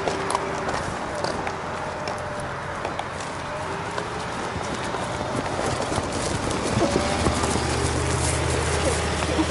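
Hooves of a quarter horse and breeding-stock paint cross clip-clop at a steady pace, with continuous rhythmic footfalls running alongside outdoor background noise.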